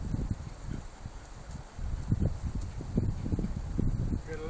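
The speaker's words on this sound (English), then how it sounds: "Gotta let that wind die down" Gusty wind blows across a microphone outdoors during Norwegian Elkhound puppy training, a steady low rumble of buffeting that swells and dips in uneven surges throughout.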